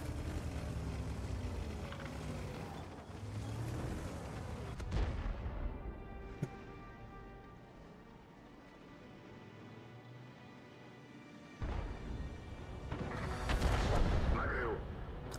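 Heavy artillery booms from an Object 261 self-propelled gun in World of Tanks on the Ensk map, a few deep, loud blasts spaced far apart with low rumbling between them, and Russian speech running under the action.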